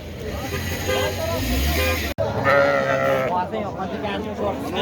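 Sheep bleat repeatedly at close range at the Dormancha sheep market, several animals calling over one another, with people talking throughout and a brief dropout midway.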